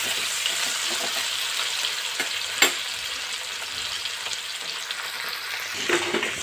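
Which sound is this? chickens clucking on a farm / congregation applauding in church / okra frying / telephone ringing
okra frying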